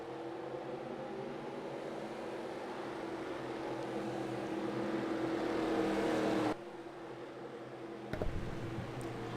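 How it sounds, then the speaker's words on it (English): Race car engines in a stock car racing game fire up and drone together in a steady, loud, buzzing hum that cuts off abruptly, followed by a brief burst of revving. "Drivers, start your engines!"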